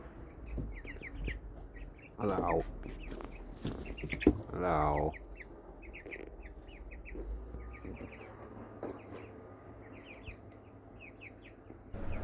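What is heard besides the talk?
wild jungle chickens clucking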